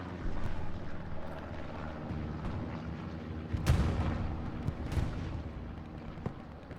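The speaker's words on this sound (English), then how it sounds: "That was the recon plane for SCDB going diagonally." Recon plane passing over a battlefield in a competitive military video game on the Utah map, a steady broad engine rumble with scattered artillery-like booms and a sharp blast near the middle, no talk.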